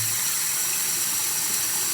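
Warm water runs steadily from a bathroom tap during a face wash, a close, even hiss of flowing water with no voices.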